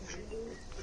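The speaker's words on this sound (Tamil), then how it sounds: "மேலே வந்து இது புறா வச்சுருக்குறாங்க." Pigeons kept on a rooftop at a chai stop in Rajasthan give a soft, low cooing call under a steady wash of outdoor background noise.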